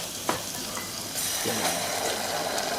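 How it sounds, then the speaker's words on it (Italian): A steady, crackling sizzle of ketchup boiling in a hot pan, broadband and continuous, growing slightly louder partway through, with a few faint clinks. "Facciamo un attimo bollire il ketchup"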